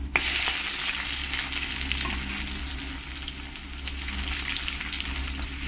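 Whole spices fry in hot mustard oil, a constant bright sizzle and crackle close by, with a faint stir or clink near the start and no talking.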